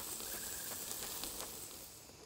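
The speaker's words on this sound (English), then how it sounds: "Wait till the sizzle goes down." Food sizzles while cooking in the survival game Grounded, a faint, airy hiss with light crackling pops that holds steady and tapers off slightly at the end.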